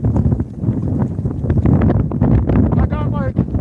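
Strong wind buffets the microphone on a windy fishing outing, a loud, continuous low roar and rumble that runs throughout while someone talks over it.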